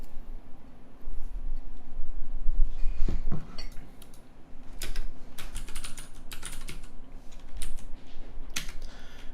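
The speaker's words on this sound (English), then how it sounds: "It's a nice clicky keyboard." Fast, close typing on a clicky computer keyboard, a dense run of sharp key clicks with brief pauses and a low background hum, no voices.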